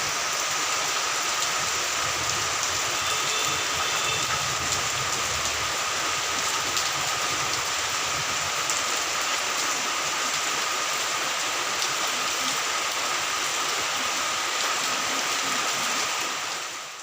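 Heavy rain pours down over Siliguri in a dense, constant roar, loud and unbroken throughout, with no voices.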